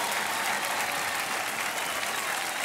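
A studio audience on the KBC quiz show applauds loudly and continuously, a dense, even roar of clapping filling the room without a break.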